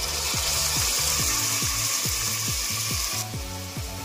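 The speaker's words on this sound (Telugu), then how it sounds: "అల్లం వెల్లుల్లి పేస్ట్ కూడా బాగా వేయించుకోవాలి." Ginger garlic paste frying in a pan for egg biryani, a steady hiss and sizzle with a regular scraping stir repeating about twice a second, close and continuous.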